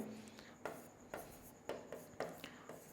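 Marker or chalk strokes on a board during a commerce maths lesson, a series of short scratchy writing strokes at a steady uneven rhythm, fairly faint and close, with no talking.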